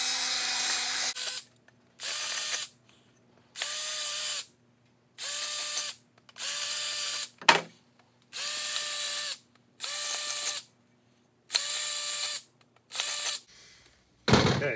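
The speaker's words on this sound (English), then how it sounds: "drill out the holes again." A power drill whirs in about ten short bursts, drilling out mounting holes for a snowmobile tunnel box, separated by brief pauses, close and fairly loud, with a clunk midway and no speech.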